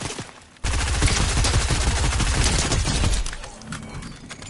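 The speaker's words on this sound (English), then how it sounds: "Someone's like shooting me from somewhere." A sustained burst of rapid automatic gunfire in a Fortnite match, loud and dense for about two and a half seconds, then easing into scattered echoing shots, with no talk.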